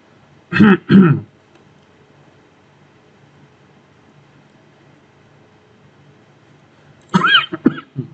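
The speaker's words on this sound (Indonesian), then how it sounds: "Batuk terus." A person coughs and clears their throat in two quick harsh bursts, then after a long quiet pause coughs again several times, close and loud.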